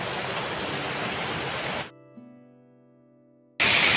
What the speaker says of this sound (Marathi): हा बघू शकता धबधबा